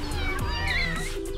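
Several small kittens meow in quick, high, overlapping cries close by, with a voice talking over them.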